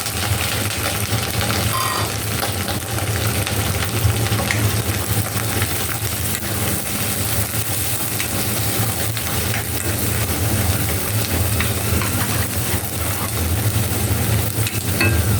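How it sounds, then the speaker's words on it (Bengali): Cleaned shrimp frying in a pan for a mura kochu (taro) bhuna, a steady loud, close sizzle and hiss running throughout with faint stirring and a low hum underneath, no one speaking. "আমি চিংড়ি মাছটা ভেজে নেব।"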